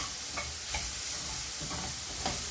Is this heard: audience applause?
no